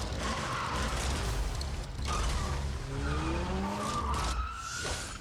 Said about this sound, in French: Course de voiture.